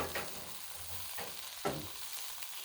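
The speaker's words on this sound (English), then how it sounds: "Sounds like it's cooking even more." A breakfast sandwich fries on a hot griddle, giving a steady close sizzle broken by a few soft scraping stirs, with no voices.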